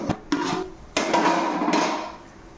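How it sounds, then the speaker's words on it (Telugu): A metal lid is set down on a cooking pot of salted water for pulao, giving a few sharp clanks with a ringing tail, close and fairly loud, with no talking. "మూత పెట్టా."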